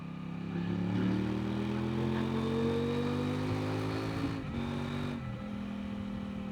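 A Kove 800X Rally adventure motorcycle pulls in fourth gear, its engine note rising steadily in pitch as it gains speed, with a brief dip around the middle before it settles again, heard close from the rider's position.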